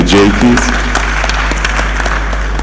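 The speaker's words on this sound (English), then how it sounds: "Could I have a round of applause" A steady round of applause rises from a crowd at an employment summit in Lagos, a dense, even wash of clapping that follows a brief spoken request and continues without pause.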